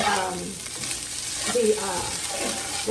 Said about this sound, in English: So basically all you're doing is just frying.